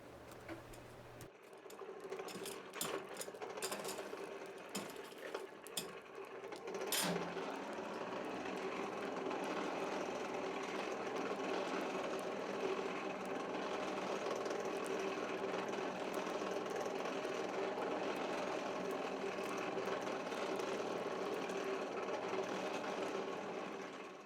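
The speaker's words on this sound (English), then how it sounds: "I'm starting off with a fairly good blast because I want to reestablish that fire." A forge blower drives a strong, steady blast of air into a coal fire, a continuous whirring roar that settles into an even drone after a few clicks and knocks at the start.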